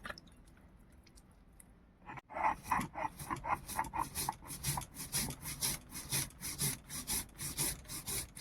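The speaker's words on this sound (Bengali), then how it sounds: "তার জন্য আমি এখানে পোস্ত, কালো সর্ষে আর 3টে কাঁচা লঙ্কা নিয়েছি। এটা আমি শিলে ভালো করে বেটে নেব।" Poppy seeds, black mustard and green chillies are ground on a stone slab, a quiet lull giving way to rhythmic back-and-forth rasping strokes, close and scratchy, repeating steadily about twice a second.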